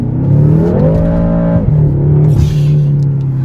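A BMW M6 F13 engine revs hard and climbs in pitch, pulling harder from 4000 rpm, dropping briefly at a gear change before pulling strongly again, loud and close.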